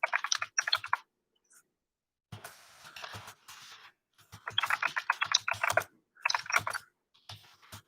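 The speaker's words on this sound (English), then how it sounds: "I'm typing an answer now." Typing on a computer keyboard, with bursts of rapid key clicks separated by short pauses, close and clear with no talk.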